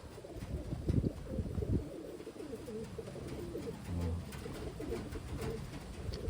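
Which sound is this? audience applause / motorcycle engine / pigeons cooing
pigeons cooing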